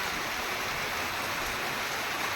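Rainwater runs continuously beside an overflowing village dam on the Ozat River after heavy rain, a steady broadband rush of flowing water like a stream, loud and unbroken throughout with no voices.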